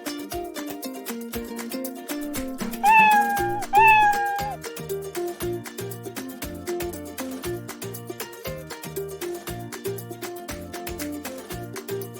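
A recorded cat meows twice in quick succession, clear and fairly loud, over a steady background of upbeat music with a plucked, rhythmic beat; the meows are played by a Scratch cat sprite.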